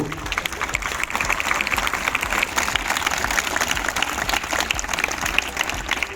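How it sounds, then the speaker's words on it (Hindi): An audience of school students applauds for Sardar Patel, a dense, even round of many hands clapping that stays steady and fairly loud throughout, with only faint crowd noise beneath. "सरदार पटेल के लिए आप सब लोग एक बार तालियां बजाएं"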